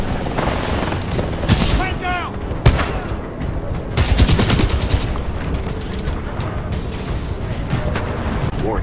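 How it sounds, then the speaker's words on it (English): Heavy gunfire and blasts from a Titanfall 2 battle against hostile Titans, a dense continuous barrage with sharp impacts, while a voice talks over it. "Oh, they're still shooting at us."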